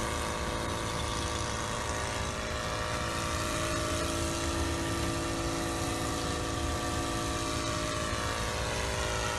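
An SK1000 UAV helicopter holds a steady hover in position-hold mode, its rotor and engine producing a loud, continuous, unchanging drone with no pauses.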